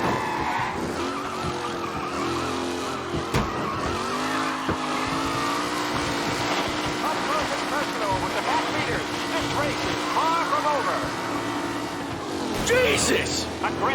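Race cars in Mafia: Definitive Edition: revving engines and screeching, skidding tires during an aggressive race, with a droning motor tone throughout and a sharper squeal near the end, under game voice chatter.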